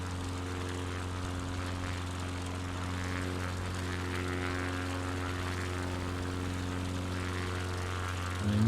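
Propeller engine of an XCub light aircraft in a flight simulator game drones steadily throughout, a constant close hum with strong steady harmonics, rising slightly at the very end, with no talk.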